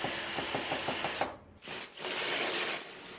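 A drill spins a homemade zip-tie air duct cleaning brush at about 350 RPM, making a rapid ticking whir that breaks off briefly and then starts again.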